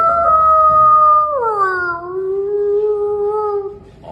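A person imitates a wolf howl with the voice, a loud, sustained tonal howl that bends downward and holds steady for several seconds before trailing off, heard alone and close.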